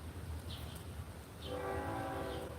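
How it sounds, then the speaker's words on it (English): A train rolls past with a steady low rumble, then its horn sounds a sustained multi-tone blast midway through, moderately loud and somewhat distant, with no voices. "Listen to the train. It's one of my favorite things is a train."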